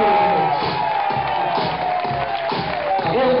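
A lively crowd at a live event in a venue, cheering and whooping loudly in a sustained swell with some clapping underneath and shouted voices rising and falling.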